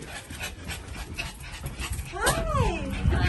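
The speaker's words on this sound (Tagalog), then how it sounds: "Excited na rin yung mga aso." Dogs whimper and yip close by, ending in a couple of rising and falling whines over a noisy household background.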